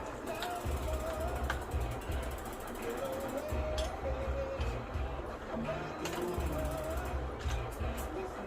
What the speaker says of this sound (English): Tighten down your bolts.